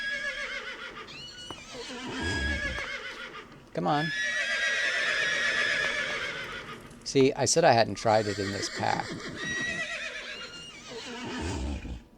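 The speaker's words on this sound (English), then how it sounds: "So if I have a horse and I right click it" Repeated whinnying neighs from a horse in the video game Minecraft, several loud harmonic calls in close succession with brief clip-clop, while someone talks over and between them.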